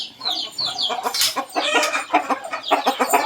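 Fighting cocks of good breeding, a mixed lot kept at a small rural farm, cluck and squawk in a busy overlapping chorus, with sharp high calls and a brief crow-like cry standing out near the start and no voices.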